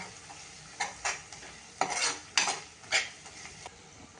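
A spoon stirs onion and kurdai bhaji, garnished with red chili powder and coriander, in a pan, making a handful of distinct scraping strokes over a faint sizzle, close and fairly quiet.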